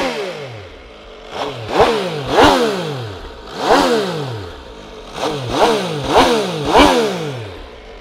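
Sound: MV Agusta Brutale 800 RR motorcycle engine idling

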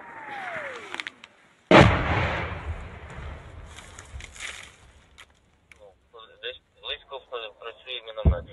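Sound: gunfire at the front near Bakhmut

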